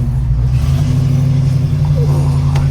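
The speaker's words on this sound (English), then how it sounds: "I'm just gonna take a rip around the block real quick." A 1968 Ford Mustang with manual steering drives around the block, its engine droning steadily and loudly from inside the cabin with a constant low rumble throughout.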